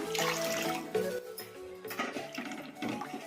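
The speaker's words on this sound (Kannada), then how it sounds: "ಈಗ ಇನ್ನು ಸ್ವಲ್ಪ ನೀರು ಹಾಕೋಣ" Water poured into a pot of mint rasam with soaked tamarind, a steady splashing pour lasting a few seconds at close range with a brief surge near the one-second mark and no talking.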